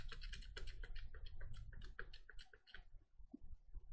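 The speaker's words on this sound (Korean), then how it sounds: "여기 오른쪽으로 붙이실 때는 스페이스바 이렇게 눌러서 이동하시면 되시지요." Close, quiet typing on a computer keyboard including space bar presses, a quick stream of light clicking keystrokes that thins out toward the end.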